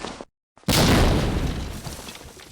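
A grenade blast in the multiplayer shooter Medal of Honor: Allied Assault: a brief moment of silence, then a sudden loud booming explosion with a wide roaring rumble that slowly fades over a couple of seconds.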